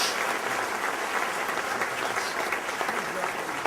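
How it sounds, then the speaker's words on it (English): Steady, full applause from an economic summit audience thanks a panel. The clapping stays even and close throughout the short burst. "please, a round of applause to our amazing panel"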